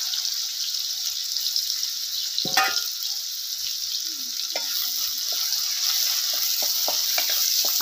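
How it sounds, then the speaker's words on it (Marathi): Chopped onion and cumin seeds sizzle steadily in hot oil in a pan for soybean bhurji, a close, constant frying hiss broken by a few scraping stirs and clinks. "मस्त असा आपल्याला कांदा ही भाजून घ्यायचा आहे."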